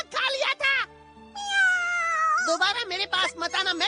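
A cartoon cat in a Hindi-dubbed Ninja Hattori episode gives a long, drawn-out meow in the middle, with other voices talking briefly before and after it.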